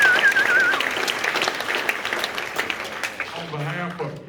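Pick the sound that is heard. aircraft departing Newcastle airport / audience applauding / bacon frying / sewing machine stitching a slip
audience applauding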